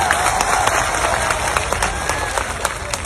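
A crowd at a political rally in Mewat applauds loudly and steadily, dense clapping with some cheering, close and continuous throughout.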